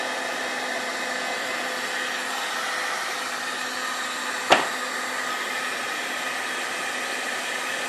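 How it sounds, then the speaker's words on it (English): A steady electric heat gun blows a constant broadband rush while warming a Chicago Pneumatic demolition hammer, with one sharp click partway through and no talking. "The reason that I'm using an electric heat gun is it's almost as fast as a torch"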